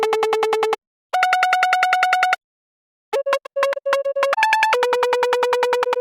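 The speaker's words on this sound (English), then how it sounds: "this machine gun pluck is giving the melody, the main melody." A buzzy, rapid-fire plucked synth built from a distorted sine wave plays a melody in fast repeated stutters, broken by short silences, loud and up front.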